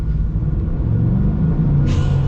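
A 2025 Ford F-350 single cab heavy-duty pickup, Godzilla engine, runs with a loud, steady low rumble at close range, and a brief hiss rises near the end.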